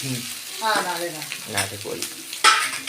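Beans and onion frying in a pan, giving a short spell of sizzle and stirring that sits under a speaking voice.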